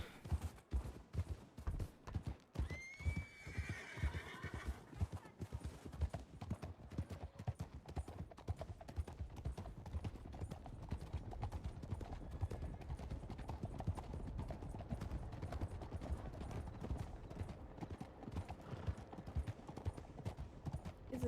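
Horse hooves clip-clop in a steady rhythm through a Red Dead roleplay game scene on snowy ground, with a brief whinny early on, fairly close and continuous over a busy background.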